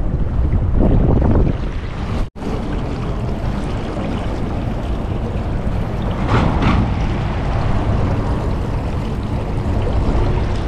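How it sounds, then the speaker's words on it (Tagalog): Steady wind roaring across an open boat at sea, a dense low rumble with gusts and a brief dropout near the start, continuous and close without any talk. "Hinahangin."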